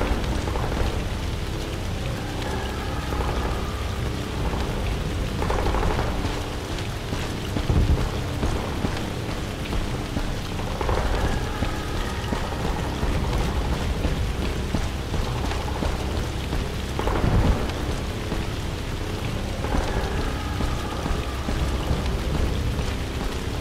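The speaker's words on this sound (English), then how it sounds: "When did it start raining anyways?" Steady rain pours in the E.T. Armies video game, a constant dense hiss with a few faint rumbles of thunder rolling underneath, no voices.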